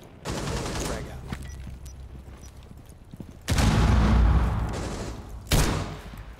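A grenade explosion and gunfire ring out in the VR shooter Ghost of Tabor, with a low rumble followed by one heavy blast and a second sharp burst, loud against quieter background noise.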